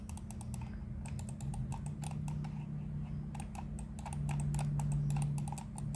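Quick, sharp clicks from a standard wired computer mouse are repeated in a steady run close by, with a constant low hum underneath.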